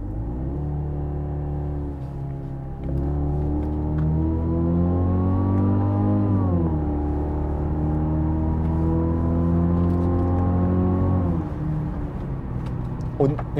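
A 2021 Genesis GV80 2.5T engine hums in sport mode as a steady low drone that rises in pitch in two stretches, with a voice speaking over it.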